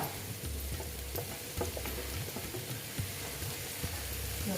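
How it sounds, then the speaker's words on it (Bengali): Onion and ginger paste frying in a pan for a Bengali boal fish curry, a low, steady sizzle broken by soft spatula taps and stirring scrapes, fairly quiet and close, with no talking. "ভালো মতন ভেজে নিচ্ছি আদা আর পেঁয়াজের একটু কাঁচা গন্ধটা"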